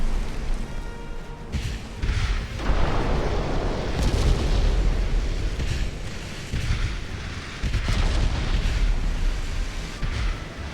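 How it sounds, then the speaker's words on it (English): A warship's magazine detonating in the naval battle game Ultimate Admiral: Dreadnoughts, with 1890-era hulls, heard as a long, loud rumbling series of booms and explosions with repeated heavy thuds and no break. "It looks as though her magazine is detonated."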